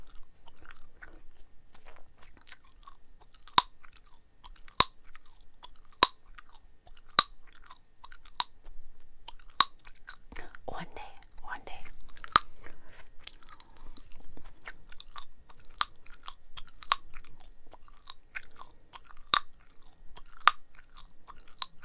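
Gum is chewed close to the microphone in a quiet room, with sharp wet clicks and snaps repeating every second or two over soft, faint mouth sounds.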